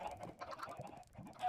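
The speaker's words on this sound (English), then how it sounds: "Oh, there's some chicken up here, dude." Chickens clucking in the video game Minecraft, a short run of soft, close clucks and chicken calls with no one talking.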